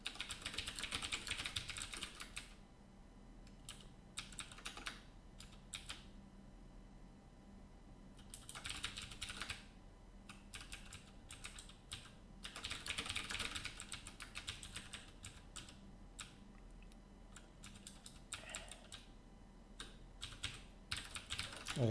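Bursts of typing on a computer keyboard during late-night video game programming, quick clattering keystrokes coming in clusters with short quiet gaps between, close and fairly soft, with no talking.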